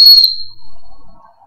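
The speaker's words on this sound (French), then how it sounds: "ça siffle très très fort parce que ça résonne dans les oreilles" A medical kit whistle blown hard and shrill, a single loud piercing blast at the start that quickly fades into near silence.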